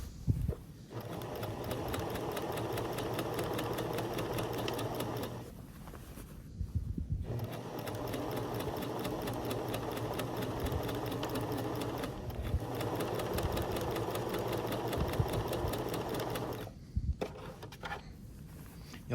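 Sewing machine stitching a skirt waistband, running in fast steady bursts with brief pauses between runs, a rapid even mechanical whir close up.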